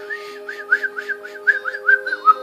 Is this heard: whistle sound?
yes